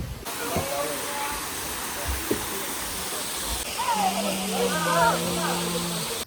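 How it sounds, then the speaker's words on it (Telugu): A steady rushing hiss of a nearby waterfall on the Ahobilam temple trekking route in the Nallamala forest, with a few brief knocks and faint tonal sounds toward the end. "ఇక్కడ మనకు రెండో వాటర్ ఫాల్."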